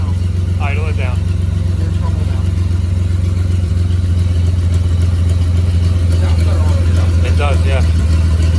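An old 1941 Plymouth barn-find engine idles steadily, a low continuous rumble close by with faint clatter, while voices talk intermittently over it.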